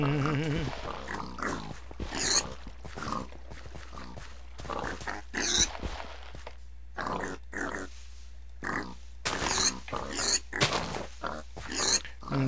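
Pigs grunt and oink in short, repeated bursts in a crowded pen in a TFC-modded Minecraft game, close and fairly loud, with several animals overlapping against a faint steady hum.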